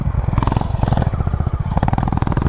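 A Honda Highness CB350 motorcycle ridden on an open road between Jodhpur and Jaisalmer in Rajasthan, its engine thumping in a fast, even pulse close to the microphone, loud and steady, with no one talking.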